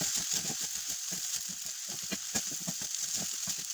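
Small noodles stirred in a hot pan with two spoons, giving a steady close sizzle with quick, irregular scraping and tapping clicks throughout.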